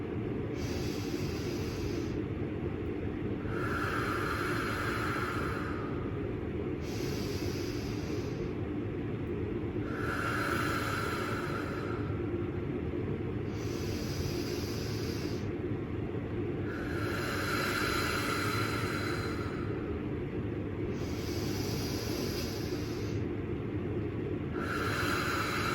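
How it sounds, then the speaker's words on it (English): Slow, deep breathing in a steady rhythm of roughly four-second inhales and four-second exhales, several breath cycles of soft airy hiss close to the mic over a constant low background noise, no talking. "let's do a 4-second inhale followed by a 4-second exhale, and then just repeat that"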